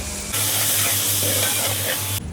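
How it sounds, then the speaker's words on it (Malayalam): Onions and tomato frying in a pan, a steady loud sizzle and hiss running close and unbroken for about two seconds, then cutting off abruptly. "സവാള ഒന്നുകൊണ്ട് വാടി വന്നതിന് ശേഷം തക്കാളി ഇട്ട് കൊടുക്കുക"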